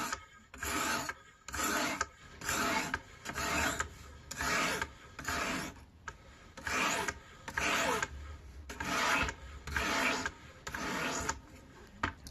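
Knife edge being reprofiled on a sharpening stone, pass after pass down one side: about ten rhythmic rasping strokes of about a second each with short pauses between, close and loud, no talk.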